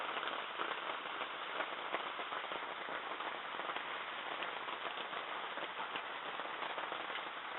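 Steady rain falls outside a bus during a flood, a constant hiss of drops drumming on surfaces with crackly patter throughout, no speech.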